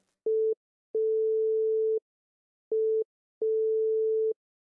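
Telephone call tones sound while someone is being phoned: clean, steady electronic beeps in a short-long, short-long pattern separated by silences, loud and alone.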